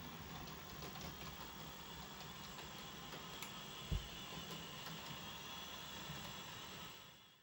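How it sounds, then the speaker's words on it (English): A model railway train runs on the Bryn Bach Railway layout, a steady, fairly quiet rolling rumble and whir that holds evenly throughout, with one brief clunk near the middle and no talking. "we'll have another running shot because we all like running trains"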